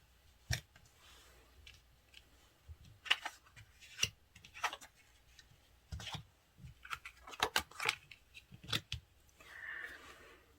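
Tarot cards turned over one after another on a table, producing soft, close papery flicks and light taps scattered irregularly through a quiet background with no talking.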